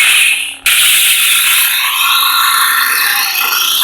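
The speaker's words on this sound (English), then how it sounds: "If you want blade lockup, hold down auxiliary and hit the saber." A Proffie-powered neopixel lightsaber triggers its blade lockup effect: a loud crackling, sizzling electric buzz bursts in after a brief dip and holds steady and close for several seconds.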